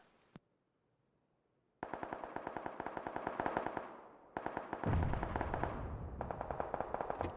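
Automatic gunfire in PUBG on Xbox: a lone shot, then a pause and three sustained rapid-fire bursts, fairly loud, with no talk.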